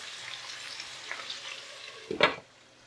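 Potatoes and onions frying in a pan, a soft, even sizzle close by, ending with a brief louder clatter as the pan or lid is handled, then quieter hiss.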